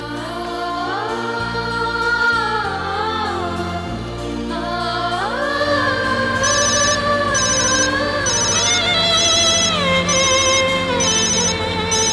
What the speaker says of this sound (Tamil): எதுக்கு சுஜாதா இப்போ ஃபோன் பண்ணுறா